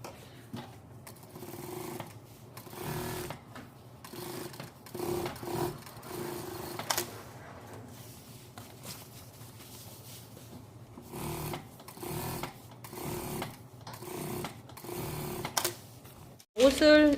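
A sewing machine runs a topstitch along a shirt collar piece after pressing, in short repeated bursts of stitching separated by pauses, close and moderately loud, with a voice talking briefly near the end.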